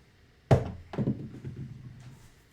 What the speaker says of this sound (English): Dice out.